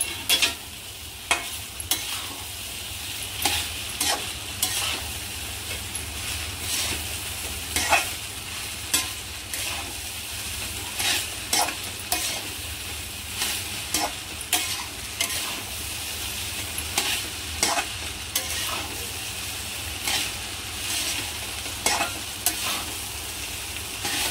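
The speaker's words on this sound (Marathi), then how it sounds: "फास्ट गॅसवरच त्याला हलवून घ्यायचंय." Egg fried rice stirred in a pan over a high flame, a steady loud sizzle with regular sharp scraping and clacking strokes of the spatula repeating close up throughout.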